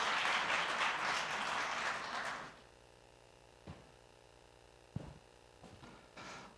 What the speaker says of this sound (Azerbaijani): Gəlin onu alqışlarla səhnədə qarşılayaq.